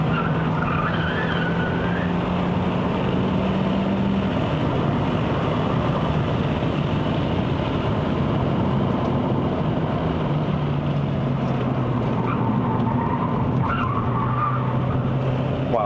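Hyundai Elantra Sport 1.6 Turbo tyres squealing and losing grip under hard acceleration on a mountain road run to Genting, Malaysia, heard from inside the car over a steady, loud engine drone for the whole stretch.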